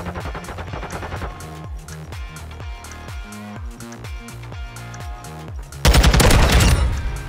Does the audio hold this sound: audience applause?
no